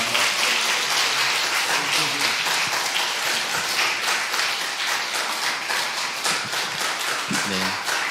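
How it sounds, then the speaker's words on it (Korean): A church congregation applauds to welcome new members, a dense, steady wash of many hands clapping that fills the room for several seconds, with faint voices mixed in underneath. "새가족 나오실 때 큰 박수 부탁드리겠습니다."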